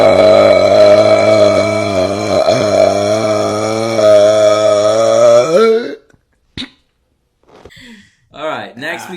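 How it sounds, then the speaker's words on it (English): A long, loud, drawn-out burp with a droning, wavering pitch, cut off abruptly, then brief quiet and a few short vocal sounds. "Don't burp."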